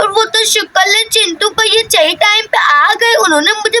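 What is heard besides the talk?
No everyday noise stands out behind the speech.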